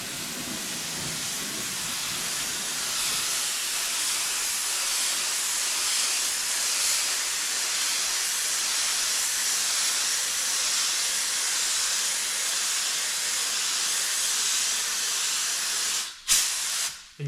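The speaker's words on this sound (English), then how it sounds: "I'm spraying at a really low air pressure so I don't kill myself." Steady, airy hiss of a paint spray gun running continuously at low air pressure and fairly close, ending with a couple of brief clicks and a short burst near the end.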